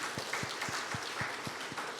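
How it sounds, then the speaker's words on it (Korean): A church congregation at a Sunday service applauds newly arrived members, with steady, fairly quiet clapping filling the room for about two seconds, with a faint regular thump running underneath. "다시 한번 박수 한번 드립시다"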